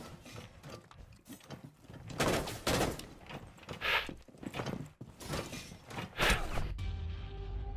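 Gunfire in a video game: scattered loud shots and bursts come in uneven clusters over a busy background, close and sharp, with no clear talk over them.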